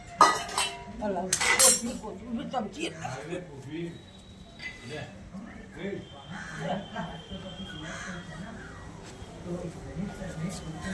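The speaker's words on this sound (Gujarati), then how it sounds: "ફેલાઈ તો દે ચમચીથી" A spoon clinks and scrapes against a dish while spreading dhokla, with irregular metallic taps up close as people talk throughout.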